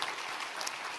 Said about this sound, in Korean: 특별히 격려와 위로의 박수 한번 해주시면 좋겠습니다